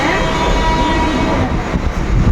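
A train runs past nearby, a loud continuous rumble with rattling wheel clatter that grows rougher toward the end.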